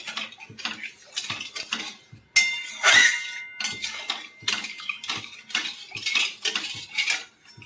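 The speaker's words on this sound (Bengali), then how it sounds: "এটা অনবরত নেড়ে যেতে হবে" Spoon stirring a guava jelly sugar mixture in a pot, with steady, repeated metallic scraping and clinking against the pot's sides, close and continuous with a brief louder clatter partway through.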